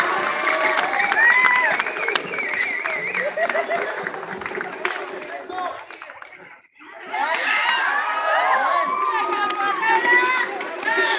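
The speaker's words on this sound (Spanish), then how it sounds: "Aplausos, aplausos." A crowd of children at a school backpack-decorating contest claps and shouts in a dense, noisy wash. It drops away briefly near the middle, then surges back just as loud.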